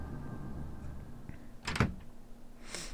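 A door in the video game Resident Evil HD Remaster opens with a short, loud mechanical clunk and scrape, set against a quiet low ambient drone, followed by a faint hiss.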